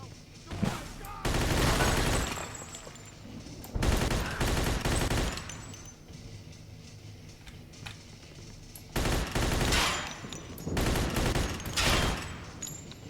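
Heavy bursts of automatic gunfire from the Mafia 2 video game come in loud clusters separated by short lulls, with no talking over the shots.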